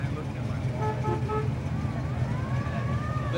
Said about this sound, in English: Let me hear your horn.